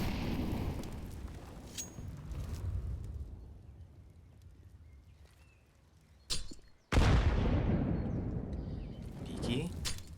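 Grenade explosion during a Counter-Strike match on Inferno, a sudden loud boom with a long decaying tail following a short burst, heard amid background gunfire and game noise with a commentator talking throughout.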